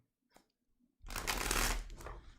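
A deck of Cat Tarot cards riffled in one quick, crisp shuffle, a dense rushing flutter of card edges lasting about a second, close up, preceded by a couple of light taps.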